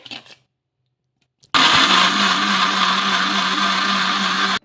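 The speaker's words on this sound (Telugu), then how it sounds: "మెత్తగా మిక్సీ అయితే పట్టుకోవాలి" Mixer grinder blending ivy gourd dosa batter, a loud close motor whine that starts abruptly after a short quiet pause and runs steadily for about three seconds before cutting off.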